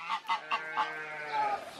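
A goose in New Zealand honks close by in a quick series of four short nasal calls, followed by a longer drawn-out honk.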